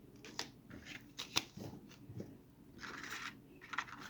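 A deck of tarot cards is shuffled close by, with quiet riffling bursts and sharp taps that give way to a longer, softer flutter of cards.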